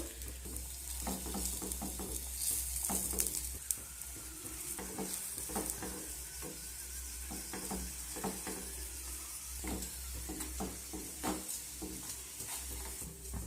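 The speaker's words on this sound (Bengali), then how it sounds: "এক পাশটায় তেলে ভেজে নেওয়ার পর অন্য পাশটা ভাজার জন্য উল্টে দেব" A vegetable-and-egg snack fries in a little oil in a pan, a faint steady crackling sizzle with scattered soft pops and clicks over a low background hum, no voices.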